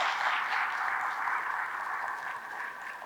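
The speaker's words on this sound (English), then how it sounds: "Give a round of applause to that lady wherever she is." An audience of accountants at a members' gathering of the ICAI Abu Dhabi Chapter breaks into steady applause, a dense wash of clapping that holds evenly and tapers slightly at the end, with no voices over it.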